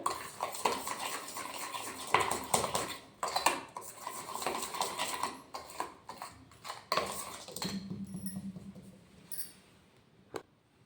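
Shrikhand beaten with a spoon in a bowl, a rapid, close run of clinking and scraping strokes that continues steadily, then stops near the end with a low hum and one final clink.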